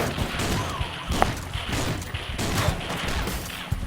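Gunfire in the mobile game Swamp Attack, a busy, steady clatter of repeated shots mixed with crashes and impacts, with sharper bangs standing out near the start and end.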